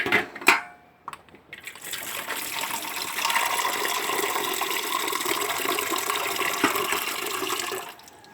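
Water gushes steadily for several seconds after a few clanks, a continuous close splashing pour of fresh cold water into a pot that stops abruptly.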